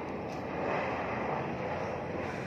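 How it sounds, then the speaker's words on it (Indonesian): Airplane descending to land at Juanda Airport, heard from a nearby housing estate as a steady, broad roar of jet engine noise that fills the clip at moderate loudness without talk. "Terlihat pesawat turun mendarat di Bandara Juanda yang dekat dengan lokasi perumahan ini."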